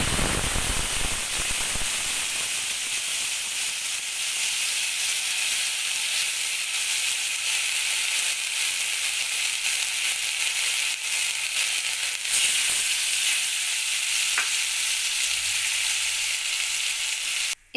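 Whole cumin, black cumin and tamarind fry in hot oil in a pan for a tangy fish dish, a loud, dense, continuous sizzle with a sharp burst at the start and occasional stirring clicks.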